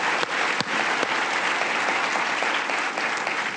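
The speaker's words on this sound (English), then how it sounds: "So let's give him another big round of applause." Applause at an environmental award ceremony, a sustained, even round of clapping from a large audience, with a few sharper claps standing out near the start.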